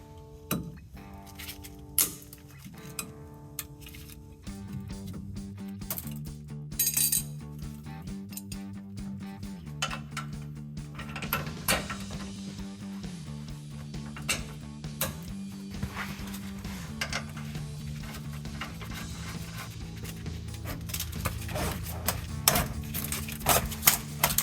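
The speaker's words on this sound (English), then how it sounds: "Next, we will attach the bottom bolt and also cut the tie holding it." Metallic clinks and ticking taps from a bottom bolt being fitted to a Rancho RS5000X rear shock on a 2007-2018 Chevrolet Silverado 1500, irregular and close, under a steady tonal hum.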